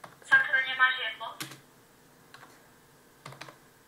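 Quick keystrokes tapped on a computer keyboard while chatting in Minecraft, a few brief clicks spread across the moment, with a voice talking over the first part.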